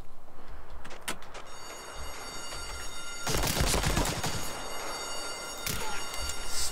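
Gunfire in the video game Medal of Honor Allied Assault, with scattered single shots and then dense bursts of rapid fire over a steady background hum.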